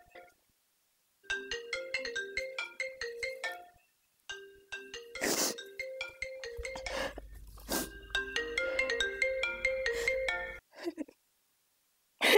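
A mobile phone plays a melodic electronic ringtone in a Pakistani television drama, with bright repeating note patterns in several bursts separated by short gaps and a few louder rustling thumps between them, loud and close, with no speech.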